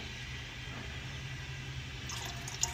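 Thirty percent vinegar pours into a watering can already half full of water, making a faint, steady liquid trickle and splash that runs throughout, ending with a small drip or clink.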